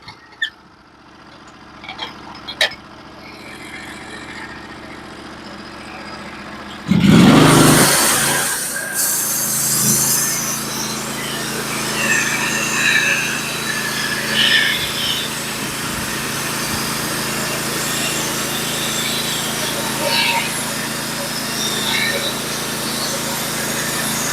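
A Norwood HD36 portable sawmill fitted with new roller guides runs its engine while milling a log, giving a steady close drone that swells into a loud burst early on before settling back to a continuous running note.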